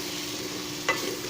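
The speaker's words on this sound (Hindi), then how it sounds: "और कुटी लाल मिर्च और ये ज़ीरा जो है थोड़ा पानी में ला के शामिल कर लेता हूँ ताकि तड़का नीचे ना लगे" Crushed red chili and cumin sizzle in a pan with a splash of water for a stuffed apple gourd masala, a steady close hiss with a brief stirring scrape.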